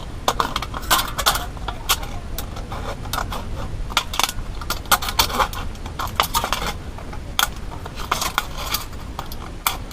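Scissors snipping through a thin aluminum drink can for a homemade alcohol stove, a dense run of sharp metallic clicks and crinkles, close and continuous with no talking.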